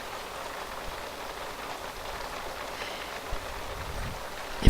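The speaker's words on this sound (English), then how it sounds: "If the rain starts to get me down badly, I'll turn the rain off." Steady rain falls in a life-simulation video game's weather, a constant hissing patter with a few louder drops and a soft thud near the end.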